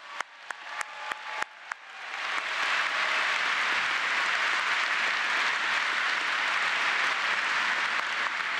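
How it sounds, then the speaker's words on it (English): Applause at the 2023 Plymouth State University undergraduate commencement for teaching award recipients: a few sharp, scattered claps at first, then a large crowd joins in with sustained, dense, even applause that fills the hall. "A round of applause."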